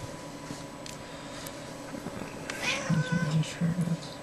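A house cat meows for attention several times, short rising calls near the end over quieter background sounds.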